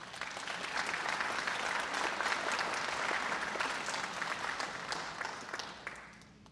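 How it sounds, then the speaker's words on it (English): An audience at a public health school commencement claps for family, friends and faculty, a full, even wash of applause that swells, holds, then tapers off near the end. "let's give our family and friends and the faculty and our leadership a round of applause"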